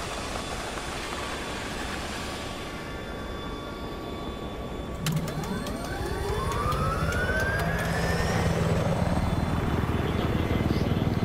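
A helicopter flies overhead in the Battlefield 4 video game, its rotor roar loud and steady and swelling as it passes, with the pitch sweeping across the sound.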